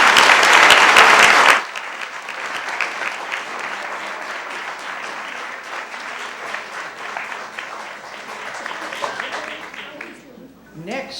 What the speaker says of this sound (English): everyone who's here who serves you really deserves a round of applause.